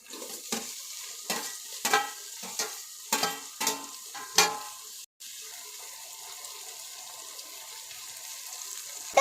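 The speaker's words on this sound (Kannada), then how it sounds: "ಸ್ಮೆಲ್ ಹೋಗೋ ತನಕ ಫ್ರೈ ಮಾಡಿ. ಕಟ್ ಮಾಡಿರೋ ಟೊಮೆಟೊ ಹಾಕಬೇಕು." Ginger-garlic paste and chopped tomatoes cooking in oil for biryani masala: a soft sizzle sits under several sharp clanks and scrapes of a spoon against the pot, then a quiet steady frying hiss carries on alone.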